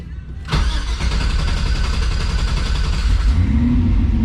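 A turbo LS engine roars up sharply and holds a loud, rough rev in a garage, its low rumble steady and booming throughout.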